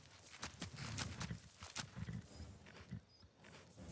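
Horse hooves clip-clop in the video game Skyrim, a run of rhythmic, fairly loud hoof strikes with dense low rumble, steady across the whole stretch.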